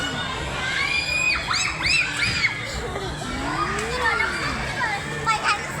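Children shrieking and shouting excitedly in an indoor ball pit playground at a Khon Kaen shopping mall, high squeals rising over a busy, echoing din of playing kids, with an adult voice speaking nearby.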